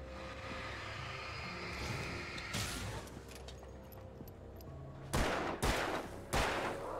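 Gunshots in the Alan Wake video game, a few sharp, loud cracks late in the passage, following a stretch of rumbling game ambience.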